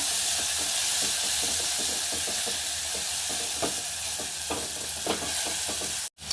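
Spices cooking down with salt in a hot pan give a loud, steady sizzling hiss, broken by rhythmic scraping strokes of a stirring spoon, with a brief cut near the end.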